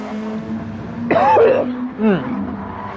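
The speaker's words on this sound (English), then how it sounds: "I tried to at least cough away from the mic" Two coughs into a microphone, close and fairly loud, the first a longer harsh burst and the second shorter, over a steady low engine hum from a Super GT racing game at Suzuka.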